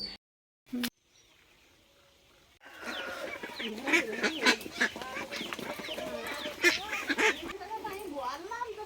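Several ducks quack and chatter loudly and close by after a brief quiet start, with overlapping calls continuing to the end.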